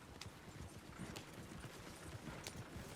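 Horse hooves clip-clop in the video game Red Dead Redemption 2, a faint, quick galloping rhythm of soft thuds over a low background hum.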